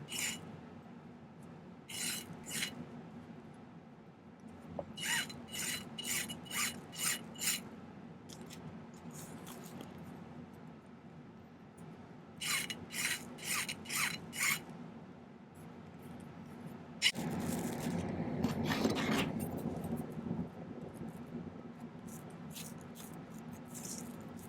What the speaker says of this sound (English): So let's do just a little bit of filing on each of these.